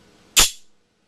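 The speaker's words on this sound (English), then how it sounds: "the knife shoots out" A Benchmade Infidel out-the-front knife fires its blade: one sharp, loud mechanical snap with a brief ringing tail, heard alone close up.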